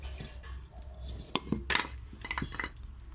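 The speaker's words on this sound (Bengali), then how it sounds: "এবারে আমি কড়াইটা উনুনে বসিয়ে দিচ্ছি।" A metal wok is set down on a lit clay stove, giving a couple of sharp clanks and a scrape close by over a low background rumble.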